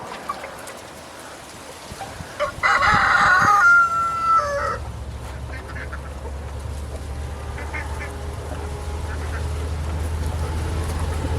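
Free-range poultry around a backyard duck pond, with a burst of loud crowing and clucking calls near the start, then quieter scattered bird calls over a steady low outdoor hum.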